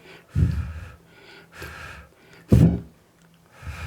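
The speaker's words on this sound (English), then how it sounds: "The pop filter's working. I'm blowing on a little bit." Several bursts of breathy air blown into a Fifine K037 microphone with a pop filter, making low, rumbling pops separated by short pauses, with no speech.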